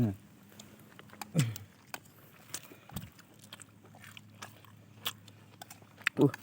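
Close chewing and biting of rice eaten with fish in a rural wild-food meal, soft crunchy mouth sounds in a few bursts, with quiet background noise and no talk.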